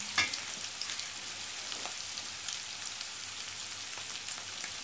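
Shrimp and onion fry in a pan, giving a soft, steady sizzle with faint crackles and a few light stirring scrapes, fairly quiet and close with no voices.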